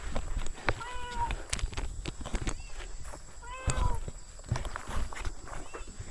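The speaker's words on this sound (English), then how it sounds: "I'm pretty sure it's a bird." Birds call in a forest on a hiking trail up to a waterfall, two short bursts of chirping notes spaced a few seconds apart over soft footsteps and outdoor background noise.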